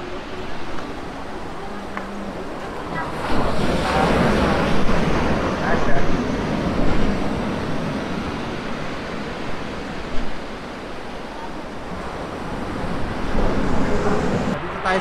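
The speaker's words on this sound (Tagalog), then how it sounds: "Makakita kayo ng sobrang lakas na alon." Broad, steady roar of surf with very strong waves surging and breaking at Baluarte ng Luna, La Union, swelling louder in the middle and again near the end, with faint voices in the background.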